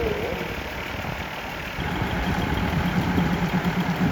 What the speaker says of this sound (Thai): สองเครื่องยนต์นะแรงมากๆนะครับ